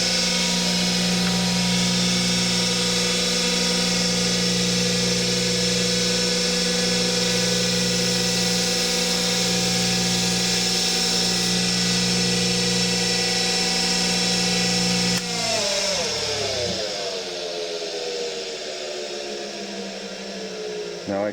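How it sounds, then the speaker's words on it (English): A bench wire wheel spinning against a bolt from a Parilla high-cam engine, a loud steady whine with a constant tone that drops off as the wheel winds down near the end. "This is a wire wheel."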